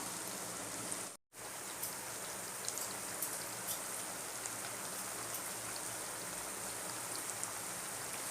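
Taro root (cheppankizhangu) slices frying in oil, a steady close sizzle with fine crackles throughout, cut by a brief dropout near the start, no talk.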